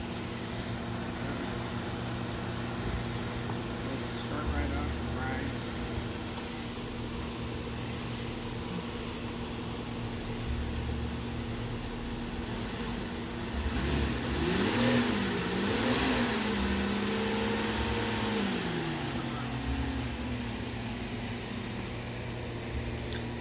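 A Cadillac engine idles steadily and close, a continuous hum and whir with a fan-like drone, then rises briefly as it is given a little gas about two-thirds through and settles again.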